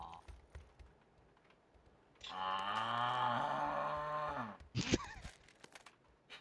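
A video game cow in PUBG: Battlegrounds moos in a long, drawn-out low call, loud and close, between quiet clicks and faint background noise.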